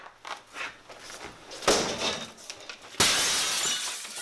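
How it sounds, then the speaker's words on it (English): Window glass is struck and shatters, with two sharp loud crashes of breaking glass, the second one bursting into a sustained bright spray of falling shards. "close your eyes and close your mouth when you break that window"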